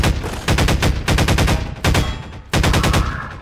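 Rapid automatic gunfire in the video game Half-Life 2, loud and close, coming in several sustained bursts of fast repeating shots with short pauses between them.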